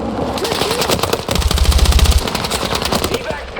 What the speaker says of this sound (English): Pinned down by heavy fire!